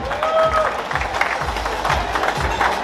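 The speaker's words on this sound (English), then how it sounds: "Big round of applause for Amit." A crowd at a Deepavali 2023 gathering applauds for Amit, a steady, close wash of many clapping hands filling the short stretch without pause, with faint voices mixed in.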